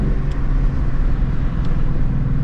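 A 2024 Ford Mustang Dark Horse drives on back roads: a continuous, loud low engine and road roar, steady throughout with no distinct shifts.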